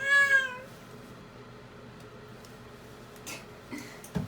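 A cat wrapped in a soaking-wet towel during a ringworm bath gives a loud, drawn-out meow up close at the start, followed by quieter handling rustles and a few faint clicks.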